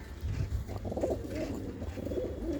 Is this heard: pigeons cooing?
yes